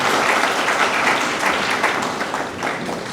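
An audience at a graduation ceremony applauds in a dense, steady wash of clapping that tapers slightly toward the end.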